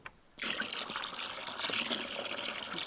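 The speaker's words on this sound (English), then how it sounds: "There comes more water for you." Water pours and trickles steadily during chimney cleaning, starting abruptly after a brief quiet moment and continuing as a moderately loud, even splashing flow with a few small knocks.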